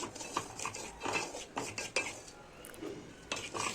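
Semolina (bombay rava) being dry-fried in a pan over a low flame, with a spoon clinking and scraping against the metal in irregular stirring strokes, close and moderately loud, no talking.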